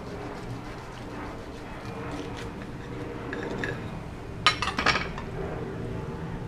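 A knife and fork cutting an X-Tudo burger with egg in half on a plate, heard as a short cluster of clinks and scrapes against the plate over steady low kitchen background.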